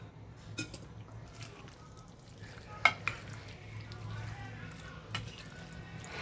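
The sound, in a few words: mixing healthy breakfast salad in a bowl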